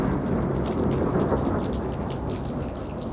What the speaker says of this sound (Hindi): बारिश हो रही है भयंकर एंड बिजली गड़ रही है